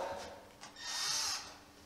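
A handheld power drill runs in short bursts in a workshop where race car exhaust piping is being fitted, whining briefly, pausing, then spinning up for a longer steady high-pitched burst that fades out.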